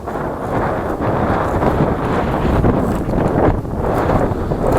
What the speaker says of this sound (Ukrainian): Вітер просто капець який.